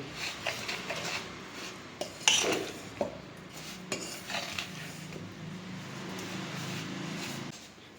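A spoon clinks and scrapes in a bowl as chopped coriander is stirred into rava dosa batter, with close, irregular metallic taps and a soft wet mixing sound, with no talking.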